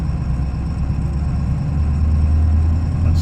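A vintage 1996 diesel truck engine drones low and steady in third gear at about 500 RPM, a close, continuous rumble with a slight rise near the end.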